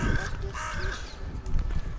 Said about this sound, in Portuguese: Olha só os corvos.